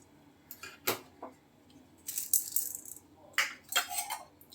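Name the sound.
urad dal being added to a pan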